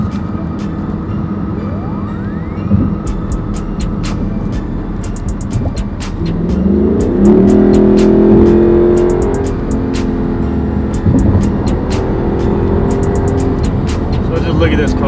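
A black Lexus LC500, stock, passes nearby on a street, its engine and road noise swelling to a broad rush in the middle of the clip before easing off, with steady traffic hum and occasional clicks around it.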